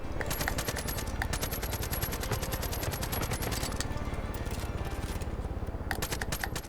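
Sustained rapid automatic gunfire in a Far Cry game, a dense, evenly spaced stream of shots running nearly unbroken for several seconds at steady volume, with no voices.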